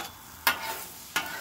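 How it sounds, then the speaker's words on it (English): An egg fries in hot oil on a hot grill, giving a continuous crackling sizzle with two sharper bursts of spatter. "Got my oil on. Hear that sizzle, baby."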